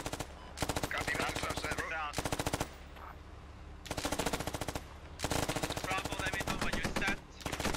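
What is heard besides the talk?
SAW machine gun fire in video game Squad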